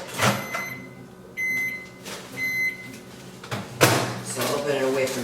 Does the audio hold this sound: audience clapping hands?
no